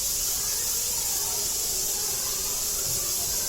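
Tomatoes hit a hot pan of prawns cooking for a Konkani thali, raising a steady loud sizzling hiss that stays constant throughout with no talk over it.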